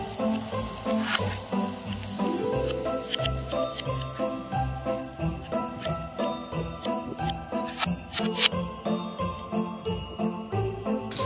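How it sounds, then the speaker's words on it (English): Onion and garlic sizzle steadily in hot oil in a pan, with a spatula clinking and scraping in a repeated stirring rhythm, close and moderately loud. "Then saute the onion and garlic."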